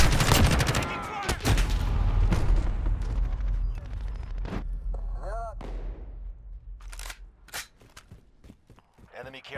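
Gunfire and explosions in Call of Duty Modern Warfare multiplayer, a loud blast and rumbling burst at the start fading into scattered shots, footsteps and game voice callouts.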